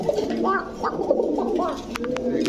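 A Koka pigeon coos loudly and close by in a series of repeated rolling calls over a low background, with a few sharp clicks near the end.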